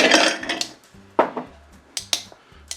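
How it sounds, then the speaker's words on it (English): Ice cubes are tossed into a large goblet-style cocktail mixing glass for a Bijou cocktail, making a run of sharp, close clinks and clatters spaced irregularly, with quiet gaps between them and no voices. "we're going to go ahead and toss the ice in there."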